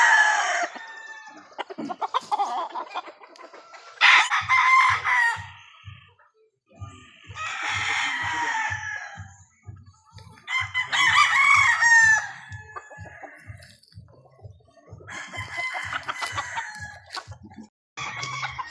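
Breeding gamecock hens cluck in a quick steady rhythm while roosters crow loudly several times, with people talking intermittently in the background.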